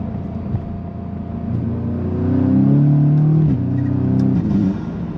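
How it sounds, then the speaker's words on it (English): Audi S3 with a stage 2 tune and a resonator exhaust pulled at full throttle from low revs, a loud close engine drone that swells and climbs in pitch for a few seconds, then eases off. "I'm just gonna get on it so you guys can hear what it sounds like in full throttle."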